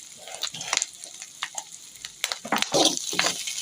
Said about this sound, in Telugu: ఒక 2 మినిట్స్ బాగా వేగనియాలి.